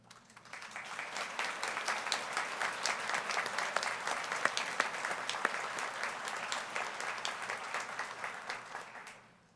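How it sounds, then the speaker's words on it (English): Applause at a commencement ceremony as nominated faculty rise, a sustained wave of many hands clapping that swells in quickly, holds steady for several seconds and fades out, fairly distant in a large room. "Faculty who were nominated, please rise for applause."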